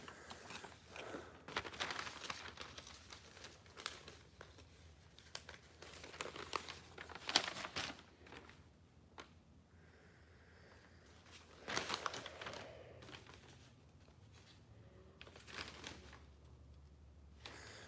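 Crinkling wrapping paper folded around an old Kansas truck license plate, heard as close, intermittent rustling bursts that swell and fade over several seconds, with quieter handling noise between them.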